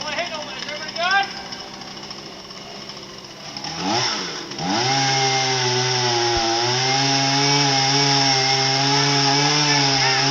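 A chainsaw cutting a tree sputters and revs a few times, then settles into a loud, sustained, buzzing engine whine held close. Voices are heard early on.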